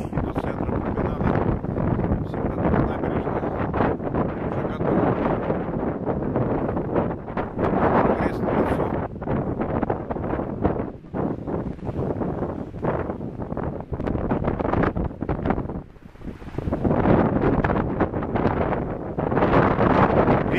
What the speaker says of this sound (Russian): Ветер дует сильный, поэтому тут, мой звук, наверное, будет заглушаться.